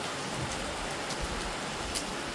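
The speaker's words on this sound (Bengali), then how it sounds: "পুরো ঝমঝম করে বাইরে বৃষ্টি নেমে গেছে।" Heavy, steady rain pours down in a dense, continuous hiss, loud and close, with no voices.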